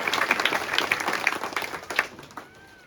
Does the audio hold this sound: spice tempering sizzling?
no